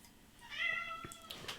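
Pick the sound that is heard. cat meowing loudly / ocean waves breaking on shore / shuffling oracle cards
cat meowing loudly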